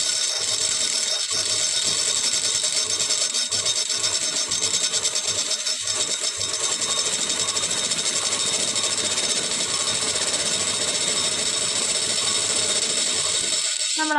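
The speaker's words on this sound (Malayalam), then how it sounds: "ഈ രണ്ട് രീതിയിലും നമുക്ക് ബോബനകത്ത് നൂല് ചുറ്റാം" A sewing machine spins steadily as it winds thread onto a bobbin, a continuous close mechanical whir with a faint rattle running for about fourteen seconds, briefly dipping near the end.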